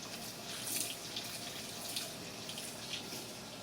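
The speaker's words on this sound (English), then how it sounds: "You can see though it's filling with water." Water pours steadily into a Whirlpool Cabrio WTW7000 washing machine, a constant soft rushing hiss with faint splashes, heard up close, quiet and even, with no voices.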